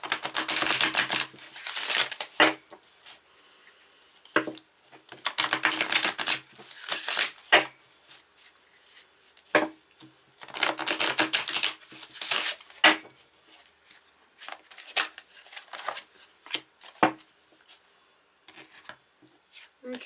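Tarot cards are shuffled in repeated bursts of rapid, papery riffling and flicking, close and fairly loud, with short pauses between handfuls and a voice speaking faintly at moments.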